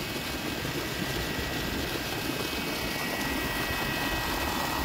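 A 1300-watt solar-powered water pump, fed by two 505-watt solar panels, runs at full strength while irrigating, producing a continuous loud, broadband rushing roar that stays steady throughout with no talking.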